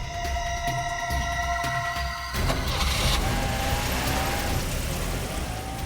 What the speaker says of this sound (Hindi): गाड़ी तो निकल गई सर